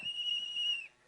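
A single whistle blown at a song launch event, a sustained steady shrill tone lasting just under a second, clear and fairly close.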